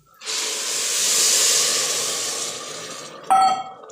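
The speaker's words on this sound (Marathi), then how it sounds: "आणि मी गरम पाणी केले बघा हे टाकते" Hot water poured into a pot of cooking rice gives a loud, steady steamy hiss for about three seconds, ending in a brief metallic clink of a utensil near the close.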